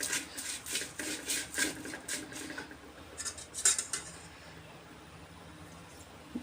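Fish biryani ingredients stirred together with lemon juice in a bowl: a run of scraping, clinking utensil strokes against the bowl for the first few seconds, then a couple of softer knocks before it trails off quietly.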